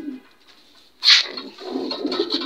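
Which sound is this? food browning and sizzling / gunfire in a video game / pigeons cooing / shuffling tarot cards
pigeons cooing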